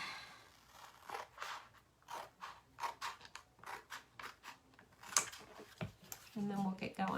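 Scissors snip through paper pieces for a Chalk Couture patriotic vintage truck craft, giving a run of short crisp cuts in an uneven rhythm, close and moderately loud, with a person talking over them.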